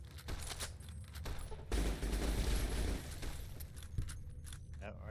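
Gunfire in the game Fallout New Vegas: a dense, loud burst of shots and impacts lasting over a second, with scattered sharper reports before and after, including a punchy single shot near the end.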